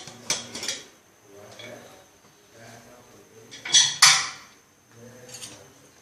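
A pressure cooker holding cooked manathakkali greens is opened, giving a few close metallic clanks and scrapes of the lid, with a soft hiss and quiet handling noises between them.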